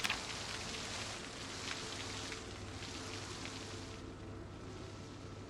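Rain falling in the video game Project Zomboid, a soft continuous patter of drops on surfaces, steady and even, quieter near the end.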